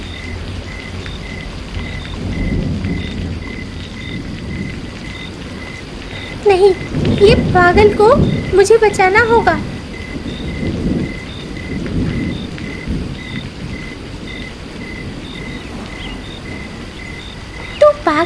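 Heavy cartoon rain pours steadily through a thunderstorm, with rumbles of thunder. Animated characters speak Hindi over the downpour in the middle.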